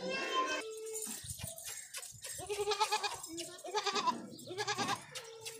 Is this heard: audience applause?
no